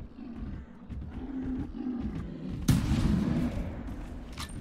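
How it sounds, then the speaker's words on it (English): A single sharp hunting-rifle shot rings out midway in the video game theHunter Classic, loud and close, over a low rumbling, growling ambience that carries on after the crack. "That was not the best shot, but hopefully that second one took it down"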